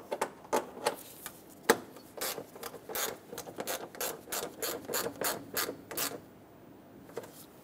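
Rapid bursts of ratchet clicking as 10mm fan shroud bolts are snugged up on a 2008-2010 Ford F-250 Super Duty with a 5.4L V8, repeated close-up runs of sharp pawl clicks with short pauses and no talking.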